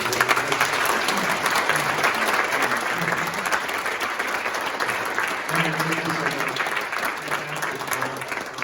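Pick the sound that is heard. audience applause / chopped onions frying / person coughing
audience applause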